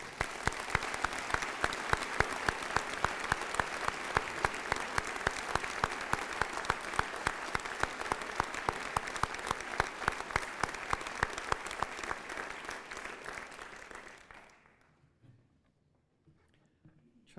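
A large graduation audience at the University of Newcastle in Australia claps loudly and steadily for an absent graduate, the dense applause holding for about fourteen seconds before fading into near silence.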